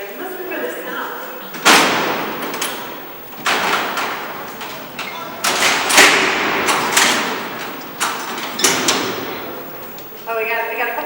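Original 1934 Alcatraz prison cell doors slam shut in a series of loud, heavy metallic bangs, about six impacts spaced a second or two apart, each ringing out and echoing through the cellblock.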